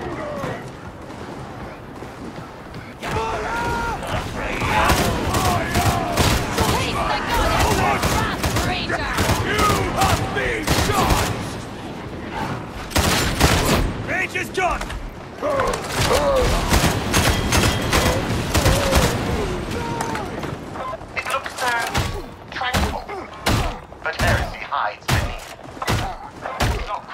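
Gunfire in a Warhammer 40k video game: rapid, dense bursts of shots and heavy thuds that rattle on for long stretches, loud and close, pausing briefly near the start and breaking into sharper separate volleys toward the end.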